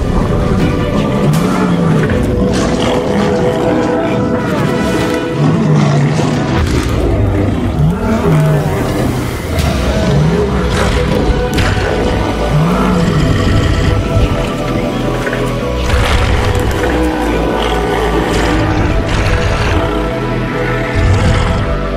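Mapogo lion coalition fighting, deep roars and snarling growls rising and falling in repeated bursts over a loud, dense, continuous rumble, close and intense throughout.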